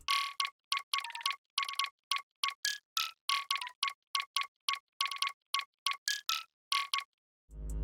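A drill beat's hi-hat pattern pitched up an octave, playing as short, bright, ticking pulses in quick rolling bursts with brief gaps, ending in a low rumble.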